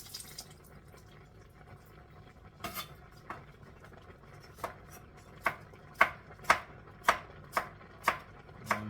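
A knife cuts fresh okra into thin rounds on a board for Jamaican-style cooking, starting with a few sharp taps and speeding into a steady rhythm of clear, close chops against a quiet kitchen background.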